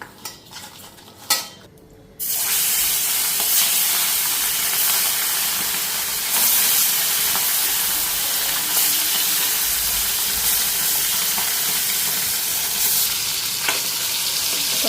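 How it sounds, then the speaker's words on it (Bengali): Fish rubbed with salt and turmeric sizzles steadily in hot oil in a home kitchen, a loud continuous frying hiss after a brief clatter of utensils at the start. "পরেই মাছগুলি ভাজা হয়ে দেবো"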